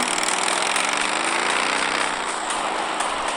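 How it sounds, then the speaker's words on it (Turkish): A car engine in a video game gives a steady, buzzing drone that holds at a constant level throughout, with no talking over it. "Abi araba değil mi lan?"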